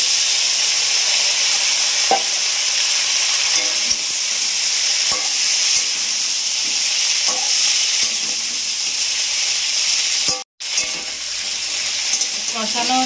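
Malabar spinach seed clusters fry and get stirred in a pan with a loud, continuous close-up sizzle, marked by occasional scrapes of the spoon and a brief break near the end.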